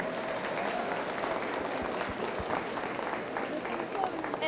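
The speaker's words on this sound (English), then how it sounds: "give them all a big round of applause as they exit" An audience applauds at a youth fair market hog show, a steady wash of clapping from a crowd in a large arena, moderately loud and continuous.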